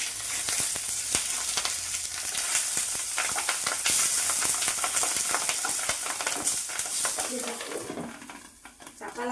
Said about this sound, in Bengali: বন্ধুরা যেভাবে ছিটকাচ্ছে আমি চাপা লাগিয়ে দিচ্ছি, যেহেতু কলা পাতা তো প্রচুর ছিটকাচ্ছে।